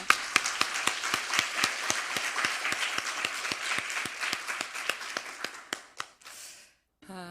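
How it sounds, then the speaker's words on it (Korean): A congregation at a Korean Full Gospel church prayer school claps in unison, with sharp, evenly spaced claps at a brisk rhythm. The clapping thins out and stops, leaving a brief murmur and then silence. "더 크게 박수 한번 하겠습니다."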